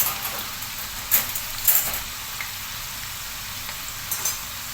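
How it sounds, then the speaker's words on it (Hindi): Potatoes fry in a pan for sizzler biryani, giving a steady, fairly loud sizzle with a few sharper crackles and stirring scrapes, and no talking. "देखिए यहाँ पे बटाटे फ्राई हो गए"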